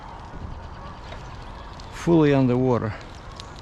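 Diving water birds on the Bow River in Carburn Park give one loud, harmonic, wavering call about two seconds in, lasting under a second, over outdoor background noise while a voice speaks briefly.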